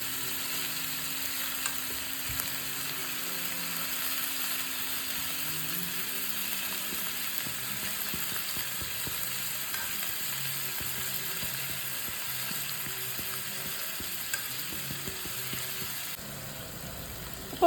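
Fish frying in a pan for a home lunch, a steady broadband sizzle running throughout with faint clinks and stirring noises underneath, moderately close and without talk.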